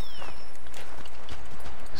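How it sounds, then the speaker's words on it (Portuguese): Horse hooves gallop in Assassin's Creed 3, with a loud, steady run of close, rhythmic thuds over continuous ambient game noise. "vou sair de um cavalo pra entrar em outro"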